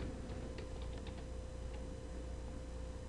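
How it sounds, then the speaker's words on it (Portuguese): A password goes in on a computer keyboard as a short run of faint, light key taps over a steady electrical hum, with no talking. "Então aqui você vai digitar sua senha direitinho."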